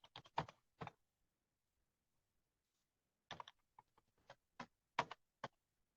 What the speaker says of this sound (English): Just using my arrow keys.